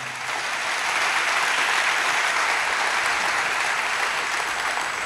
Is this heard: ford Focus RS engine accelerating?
no